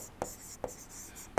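Writing on a lecture slide during a thermodynamics lesson on a compression-ignition engine produces a few soft, close strokes of a pen or stylus. The short scratchy taps are spaced apart and sit against quiet room tone.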